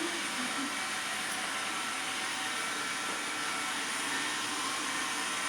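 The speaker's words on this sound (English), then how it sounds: "One minute in the life of a vacuum cleaner." A household vacuum cleaner runs steadily nearby, a continuous broadband whooshing roar with no pauses, loud and alone throughout.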